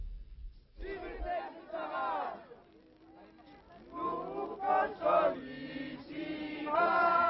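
A crowd of Gypsy pilgrims in the procession at Saintes-Maries-de-la-Mer, a dense mass of voices rising into loud shouts and cheers, with chanting swells and bursts of calling close by.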